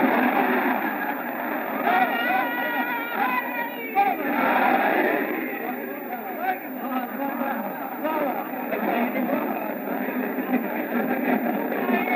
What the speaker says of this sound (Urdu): یہ جو نعرے لگاتے ہیں یہ ہم خام مخواہ نہیں لگاتے